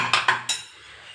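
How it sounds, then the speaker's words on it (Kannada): A pressure cooker lid being opened after cooking khichdi, giving three quick metallic clinks and clatters in close succession, then a soft fading hiss of released steam with no talk. "ಈಗ ಕುಕ್ಕರ್ನ ಓಪನ್ ಮಾಡ್ಕೊತಾ ಇದ್ದೀನಿ ನಾನು"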